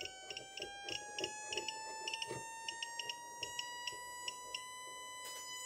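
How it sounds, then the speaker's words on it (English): An audio amplifier plays a test tone that glides slowly up toward 1000 hertz, a steady, buzzy pitch with strong overtones, under a quick run of faint, regular ticks. "Get it to 1000 hertz."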